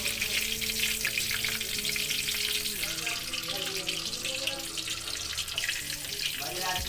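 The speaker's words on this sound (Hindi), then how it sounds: "ऐसे हम सारे पनीर को भून लेंगे" Paneer cubes fry in hot oil, a steady broadband sizzle that carries without pause through the whole stretch, with faint low tonal hum and light kitchen clatter underneath.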